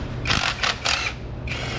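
A few quick ratchet clicks in short bursts as a 10mm ground bolt is loosened on the thermostat housing of a Honda Accord, close and crisp with no talking.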